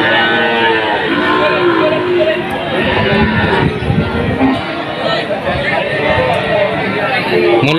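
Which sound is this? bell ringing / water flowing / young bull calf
young bull calf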